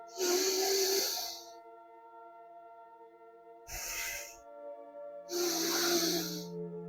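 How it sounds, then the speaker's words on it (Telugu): A person breathes out slowly and forcefully during a hand and finger exercise for pain relief. Three hissing exhalations come close to the mic over a steady background hum, with pauses between them. "శ్వాస వదిలేటప్పుడు నిదానంగా వదిలేస్తారండి."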